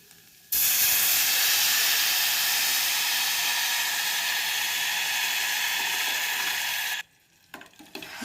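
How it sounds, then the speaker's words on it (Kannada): Tamarind juice poured into a hot pan bursts into a loud, steady sizzle and hiss that holds for several seconds, then cuts off abruptly, leaving faint clinks and stirring. "ಈಗ ಹುಣಸೆ ರಸ ಹಾಕ್ತಾಯಿದ್ದೀನಿ"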